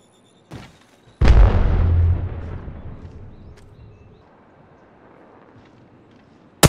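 A missile launch explodes in a space combat video game: a small pop, then a heavy booming blast that rumbles and slowly fades over several seconds, ending in a sharp burst.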